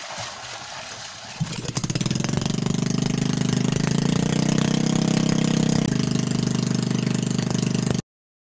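A generator-driven water pump, used to draw water while installing a PVC hand-pump well, starts up after about a second and a half and then runs as a loud, steady engine drone.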